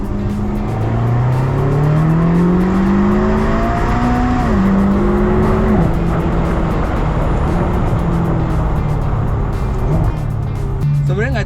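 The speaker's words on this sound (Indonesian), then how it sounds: "California ini udah cukup lah buat ngerasain kita sensasi nyetir Ferrari" Ferrari California driven fast around the Monza circuit, its engine a loud continuous drone with rising and falling pitch sweeps as it accelerates and shifts, sustained close-up throughout with a voice talking over it.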